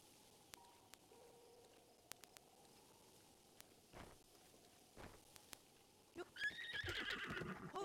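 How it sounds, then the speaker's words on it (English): Horse in The Legend of Zelda: Breath of the Wild: sparse soft hoof clops and faint ambient sounds, then a loud whinny rising near the end. "Good horse."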